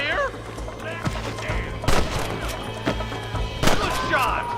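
Gunshots ring out in Red Dead Redemption as several sharp, loud reports, two of them prominent, among game noise and voices talking.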